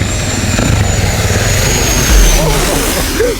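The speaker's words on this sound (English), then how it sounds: "Plane coming. They're really coming every like couple of minutes." Airplane flying low overhead on approach to land, a loud continuous engine roar that swells slightly at one point, close by and dominating the short stretch without talk.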